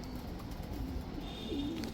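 Pigeons coo softly in a loft, a short low warbling call rising over a quiet indoor background.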